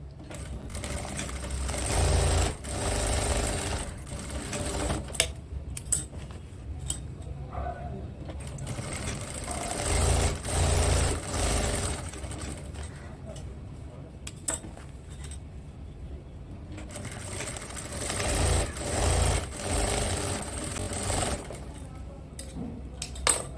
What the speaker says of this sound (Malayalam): ഈ ലൈൻസിൽ കംപ്ലീറ്റ് നമ്മൾ സ്റ്റിച്ച് ചെയ്ത് എടുക്കാൻ പോവുകയാണ്